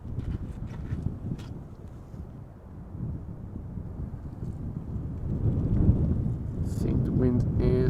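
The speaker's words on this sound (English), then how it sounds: "I think the wind is affecting the camera less from this angle." Wind buffeting a camera microphone outdoors at an airport, a steady low rumbling roar that swells louder in the second half, with talk faintly underneath.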